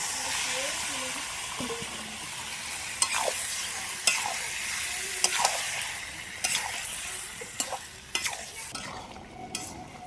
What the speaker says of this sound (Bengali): এবার আমি এই যে চিকেনটা যে ম্যারিনেট করে রেখেছিলাম সেটা দিয়ে দিচ্ছি